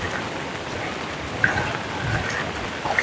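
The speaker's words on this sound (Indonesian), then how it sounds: "Ya keras lagi hujan ini." Heavy rain falls over a flooded road in Gorontalo, Sulawesi, in a constant, dense wash of noise, close and loud, with a few brief sharper drops.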